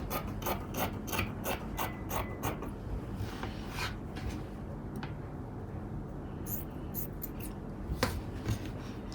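Scissors trim chiffon fabric for a shift dress, making a run of quick, close snipping clicks in rapid rhythm, then a pause with soft fabric rustle before a few more scattered cuts.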